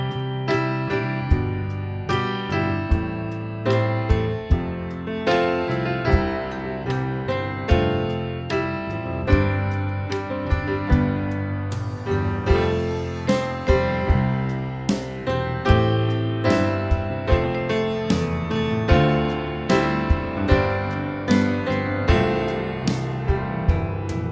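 Piano plays a song from The Lion King at full speed as an easy arrangement, with steady rhythmic chords and melody running continuously and clearly up close, no talking.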